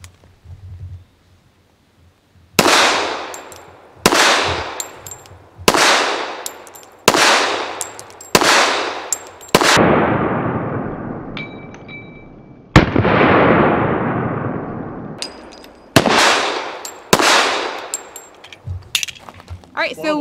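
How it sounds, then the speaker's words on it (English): Llama Max-1 1911 pistol firing a full magazine plus one at an outdoor range: about ten loud, sharp shots spaced a second or two apart, each ringing out in a long echoing decay. "We'll start off with our full mag plus one basic reliability test"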